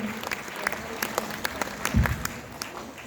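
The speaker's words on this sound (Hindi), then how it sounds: "कृपया तालियों से उनका स्वागत करें।" An auditorium audience at a World Indigenous Day gathering in Raigarh claps to welcome a guest, a loose scattering of hands with distinct individual claps, fairly faint, plus a brief low thump near the middle.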